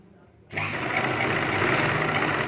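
A sewing machine runs steadily after a half-second of quiet, stitching a ladies' pant with a side zip, its motor whirring loud and continuous close by.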